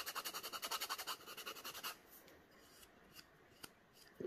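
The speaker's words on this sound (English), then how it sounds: "I'll just give it a really light sanding, just like that, all the way around with my little emery board" Quick rhythmic rasping strokes of an emery board lightly sanding the edge of a resin coaster, close and soft, followed by quieter scattered scrapes and taps.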